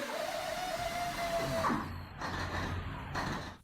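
A steady mechanical drone and whir from a Phoenix forage harvester in Farming Simulator 19 runs continuously, with a brief rising whine and some clunking shifts, fairly constant and moderately loud.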